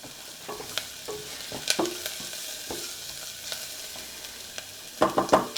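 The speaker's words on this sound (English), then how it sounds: "So I'll let these onions saute for just a few minutes," Onions sautéing in a hot pan for tomato soup, a soft continuous sizzle punctuated by scattered scraping and clinking stirs from a utensil, ending in a louder burst of clatter and crackle.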